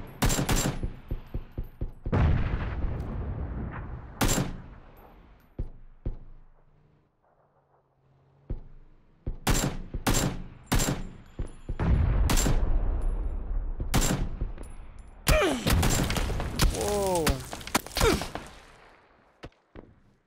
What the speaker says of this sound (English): Give me some cover fire, guys. Shoot at him.